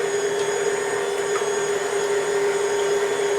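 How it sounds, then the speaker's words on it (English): KitchenAid stand mixer whisking batter for a Dutch baby pancake with its wire whisk attachment, a steady close motor whine with no pauses. "Get them in the KitchenAid and start mixing. I'm using the wire whisk today, so it gets nice and fluffy."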